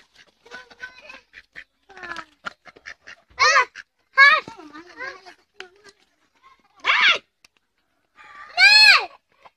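Chickens let out a few loud, strained squawks at irregular intervals, sharp cries standing out above continuous nearby talking and other farmyard animal sounds.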